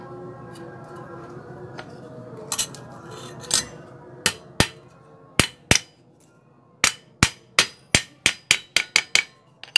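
Hammer blows drive nails into an oval pot mould, with scattered strikes at first and then a quicker, regular run of sharp, ringing impacts close by.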